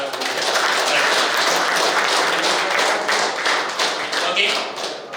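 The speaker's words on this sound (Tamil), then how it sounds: "உங்க நண்பருக்கு எல்லாத்துக்கும் ஒரு கிளாப் பண்ணிடுறீங்க" A group clapping together for their friends at a kabaddi umpire training session, dense sustained applause with a few louder hand taps standing out.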